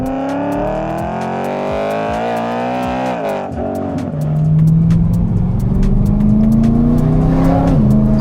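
A 450bhp BMW E92 M3 engine drones loud and close from inside the cabin, its note dipping then climbing steadily as the car accelerates, with a brief lift around the middle.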